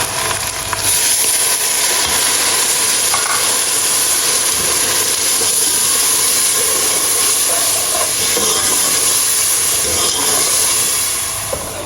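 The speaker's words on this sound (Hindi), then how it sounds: "लहसुन अदरक के बाद टमाटर वाला मिक्सर डाला है और अच्छे से भुनाई हो रही है" Garlic, ginger and tomato masala sizzles loudly in a pot, a dense, even hiss that holds steady throughout with no talking.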